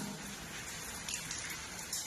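Rain and hail pour onto a wheat field in Haryana during a hailstorm, a dense, steady hiss of impacts close by with no voices.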